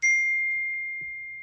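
One small bell dings once, a clean high tone ringing on and gently decaying over a second and a half, with only a faint low murmur underneath.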